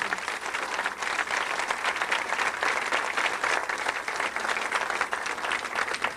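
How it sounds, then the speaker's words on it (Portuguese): Sustained applause from an audience at a religious talk, a dense and even wash of many hands clapping at steady volume from start to finish. "Transfiro todas essas palmas para o meu Jesus."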